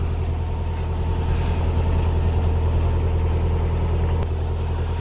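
A canal narrowboat's engine runs at steady revs while cruising in winter, a constant low diesel throb and drone that stays close and even throughout, with no voices.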